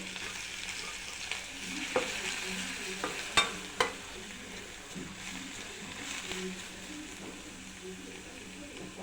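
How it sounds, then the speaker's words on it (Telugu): Carrots sautéing with turmeric in a pan give a steady low sizzle with occasional stirring knocks and scrapes. It keeps on quietly for the whole stretch with no talking. "క్యారెట్ మంచిగా మగ్గాలి."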